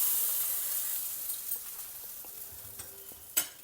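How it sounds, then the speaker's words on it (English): A hot tadka of mustard seeds, urad dal and curry leaves fried in oil hisses steadily as it is poured over tomato coconut chutney. The sizzle fades gradually, with a few soft clinks and one sharp pop near the end. "pour this sizzling tadka over your chutney."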